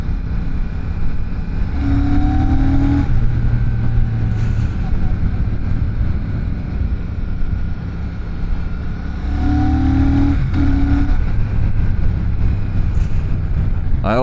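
A Royal Enfield Shotgun 650 motorcycle engine under steady load, with a continuous loud rumble and two rising revs as it accelerates through the gears. Someone speaks over it.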